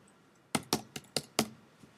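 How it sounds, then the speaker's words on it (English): Five crisp keystrokes on a computer keyboard as a search is typed into Google, irregularly spaced clicks, close and clear over a quiet room. "If we go to Google and we start typing in something"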